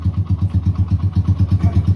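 A motorcycle engine idles close by in a steady, even chug of rapid regular pulses, loud and alone with no talk.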